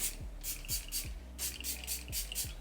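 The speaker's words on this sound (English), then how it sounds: "Now I'm just gonna finish it off with some setting spray" Close-up bursts of a fine mist spray from a makeup setting spray bottle, about six quick hissing pumps in an uneven rhythm, each with a soft click from the nozzle.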